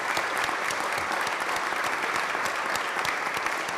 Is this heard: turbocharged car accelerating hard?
no